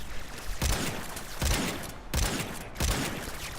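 Euphona Prime firing in its secondary fire mode in the Warframe video game, four heavy, booming shotgun-like blasts spaced roughly evenly, each with a long rumbling tail.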